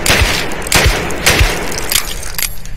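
Gunshots ring out in the video game Wolfenstein II: The New Colossus, several sharp booming reports at irregular intervals, loud and close, each with a short echoing tail.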